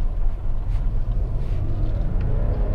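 A Lexus RX 300 3.0 SE car turns around, its engine and road noise forming a steady, close, low rumble that runs throughout without a break.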